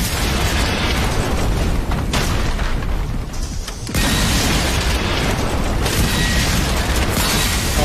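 Rocket explosions in the video game Generation Zero, loud booming blasts filling most of the stretch with a brief lull before another heavy explosion and crackling debris.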